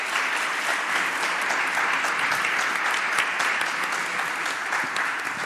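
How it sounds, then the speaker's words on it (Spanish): Steady, dense applause from an audience at a national rewilding symposium, thanking the speakers; continuous clapping fills the room at an even level for several seconds, with a faint voice or two beneath it. "Uma grande salva de palmas aos nossos oradores."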